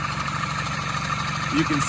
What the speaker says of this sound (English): It's cracked and the exhaust is very loud.